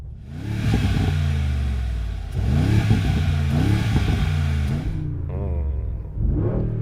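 A Mercedes-AMG G63 V8 revs hard twice, each blip swelling into a loud, rumbling roar before a brief lower idle, with a faint voice briefly heard near the end.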